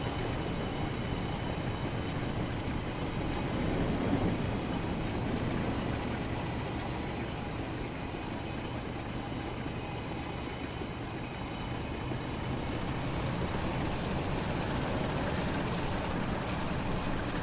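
A Class 47 diesel locomotive in Train Sim World, running at full power on the West Coast Main Line over Shap, giving a loud, steady, dense engine roar mixed with rumbling rail noise throughout.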